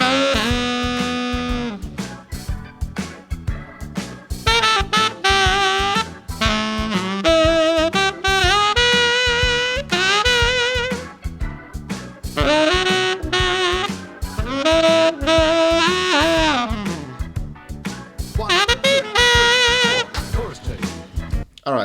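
A horn plays a blues shuffle solo with a series of phrased melodic lines broken by short rests, loud and close, alone with no talk over it.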